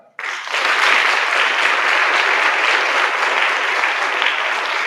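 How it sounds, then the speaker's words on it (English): Sustained audience applause at a community MLK Jr. celebration, a dense, steady wash of many hands clapping that swells in almost at once and holds loud and even throughout. "Let's give Carlos a hand clap"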